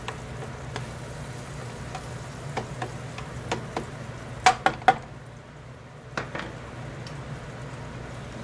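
Garlic in melting butter sizzles softly and steadily in a pan, with scattered sharp ticks and clinks of a utensil against the pan, a cluster of louder knocks midway, no talking.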